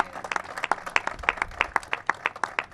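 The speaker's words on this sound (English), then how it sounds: "Let's give her a round of applause, Senator Monica Martinez." At a government announcement, a modest crowd claps for a state senator, the individual hand claps distinct and sharp in a loose, irregular rhythm rather than a dense roar.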